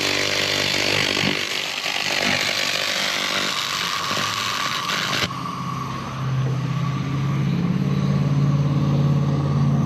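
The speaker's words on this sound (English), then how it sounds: "So when you guys hear it not making very much noise there, it means the surface is getting pretty clean there." A 2000W laser cleaning machine working over a weathered aluminum piece gives a loud, continuous harsh hiss and buzz that briefly softens midway, then returns with a lower droning edge.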